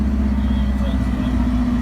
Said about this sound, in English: The sound of the car is amazing.